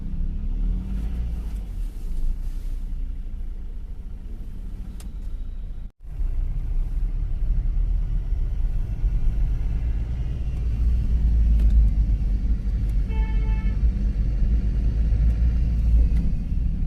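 Slow traffic in a roadside jam, with a deep continuous rumble of idling and creeping vehicles close by, a brief cut partway through, then a louder stretch of engines.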